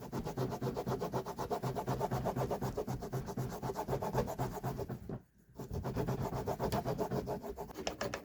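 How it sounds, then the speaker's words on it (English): Steady rhythmic rasping of a rasp roughing up the leather sole of a handmade blue Oxford shoe, repeated strokes up close and fairly loud, with one brief pause midway. "rough up the leather with a rasp to allow the glue to stick properly to it"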